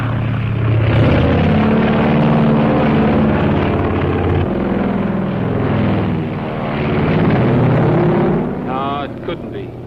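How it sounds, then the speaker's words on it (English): Propeller airplane flying overhead, a steady loud droning engine hum that swells and holds through the scene, with voices and music layered over it. "I never saw that plane before."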